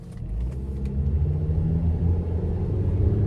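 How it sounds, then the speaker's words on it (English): A 2016 Dodge Journey Crossroad Plus with a 2.4 engine drives on the road, heard from inside the cabin as a steady, fairly loud low rumble of engine and road noise, with no talking. "let's go ahead and take this 2016 Dodge Journey Crossroad Plus out on the road for a test drive"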